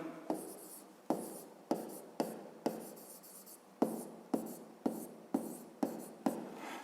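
Hand writing on paper while working through a fifth-grade math exercise, a pen or pencil scratching in repeated short strokes that start sharply and fade, about a dozen bursts in a steady rhythm, close and quiet with no talking.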